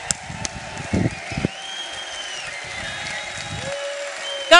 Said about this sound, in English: Everybody standing round of applause.